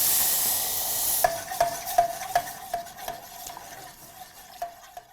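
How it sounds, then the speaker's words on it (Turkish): Flour being stirred in a pan for a meatball sauce: a soft sizzle with a run of distinct scraping, tapping spoon strokes in a fairly regular rhythm, close by and fading toward the end. "Unun kokusu çıkana kadar unumuzu karıştırmaya devam edeceğiz"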